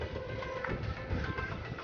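A small toy train runs at a boat dock by the Arabian Sea in Mumbai, giving a steady rumbling rattle with a faint whistle-like tone over gusty wind noise.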